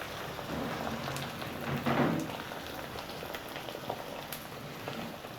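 Beaten eggs poured into a hot pan of cooked rice for egg rice, giving a steady hiss and sizzle that swells briefly near the middle, with no talking.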